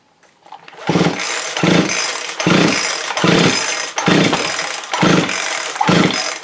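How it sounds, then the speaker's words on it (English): Repeated pull-starts on a Husqvarna 240 chainsaw that fails to fire: six rhythmic rasping recoil-cord pulls, each a short burst, loud and close, with no engine catching. "If I go to start this chainsaw, there's absolutely nothing happening."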